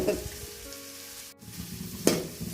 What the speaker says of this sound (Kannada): ಇವಾಗ ಈರುಳ್ಳಿ ಫ್ರೈ ಆಗ್ತಿದೆ